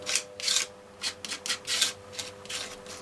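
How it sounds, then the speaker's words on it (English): Transfer gel is spread over a stencil in quick, soft smears. There are about nine short scraping strokes in an uneven rhythm, close but faint, over a steady low hum. "I'm just going to spread my transfer gel over my stencil"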